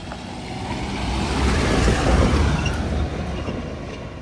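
A sturdy village vehicle in the Kashkadarya mountain countryside drives past with a broad engine and road rumble that swells toward the middle and eases off, steady and fairly close.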